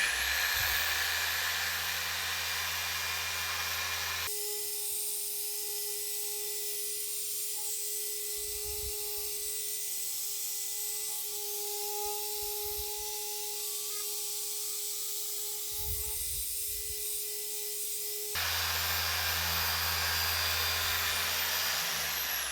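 A machine polisher works the side windows of a BMW 320d, giving a steady whirring drone with a tonal hum that runs evenly throughout, shifting slightly in pitch between sections.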